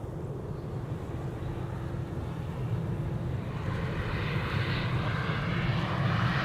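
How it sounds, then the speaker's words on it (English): An Air France Bombardier C Series 300 jet arriving at Amsterdam Schiphol from Paris Charles de Gaulle, a continuous engine rumble and whoosh that builds slightly toward the end, with no voices. "That's a Bombardier C Series 300 arriving from Paris Charles de Gaulle"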